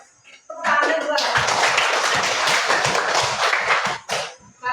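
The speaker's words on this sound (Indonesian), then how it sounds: "Ibu minta tepuk tangannya dua." A classroom of children claps on cue during a primary school lesson, a short rhythmic burst of hand clapping after a brief pause, ending abruptly with a final clap.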